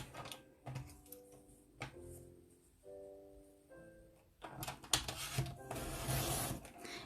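A paper trimmer blade slices through card stock during card making, giving rough rasping and rubbing strokes with short sliding cuts and a louder, fuller pass near the end; close and moderately loud with no talking.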